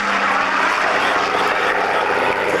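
A Supermarine Spitfire flies past at an air pageant, its aircraft engine a steady, broad roar heard at moderate distance and holding level throughout, with no voices over it.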